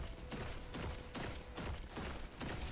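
Gunfire in the video game Destiny 2 comes in rapid bursts, about five or six quick volleys of sharp mechanical shots in a regular rhythm, moderately loud and close with no speech.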